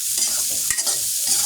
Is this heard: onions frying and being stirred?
yes